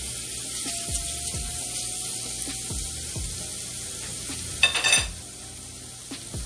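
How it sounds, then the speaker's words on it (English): Garlic frying in hot oil in a pan, with a steady low sizzle and scattered light taps and clinks of a utensil against the cookware. "Get our garlic in there. So it can season that oil up some."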